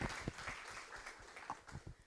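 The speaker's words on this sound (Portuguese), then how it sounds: "eu queria pedir uma salva de palmas para os nossos colegas que estão na cabine, a Natália e o Cleiton" Audience applause at a talk on translation history, scattered clapping from a crowd, fairly faint and uneven over about two seconds.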